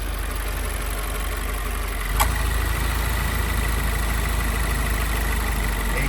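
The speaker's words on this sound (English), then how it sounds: "Let's listen to this engine." A 2019 Subaru WRX Limited 2.0L engine idles steadily with a low, constant rumble, air conditioning fan running, one brief click partway through, no voices.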